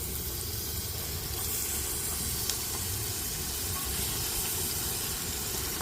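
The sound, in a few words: washed chicken pieces added to hot pan, sizzling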